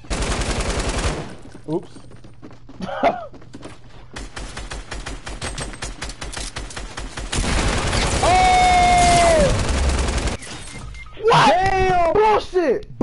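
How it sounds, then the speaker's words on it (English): A light machine gun fired in a shooting video game, bursts of rapid gunfire chattering in sections between stretches of talk, with voices speaking over and around the shots. "Finna pull out the light machine gun."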